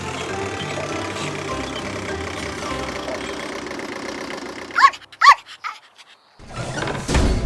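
Excavator and bulldozer engines run with a steady, dense rumble for several seconds, broken by a few short chirping tones and a near-silent gap before the engine noise swells back. No one speaks.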